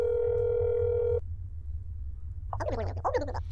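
A phone rings in the video game That's Not My Neighbor: a steady electronic tone holds for about a second and then cuts off, leaving a quiet line before a faint voice answers.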